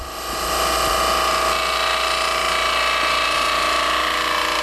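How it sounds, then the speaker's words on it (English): A lathe spins a wooden workpiece while a turning tool cuts a bead, giving a steady, loud whirring hum with a fine scraping texture that holds constant throughout after a brief ramp at the start. "lift it up till it starts to cut, and as I rotate it, I move the handle with my body around to the right"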